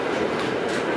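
A passenger train running along rails beside the Wisła, heard from inside the carriage as a loud, steady rumble with faint clatter.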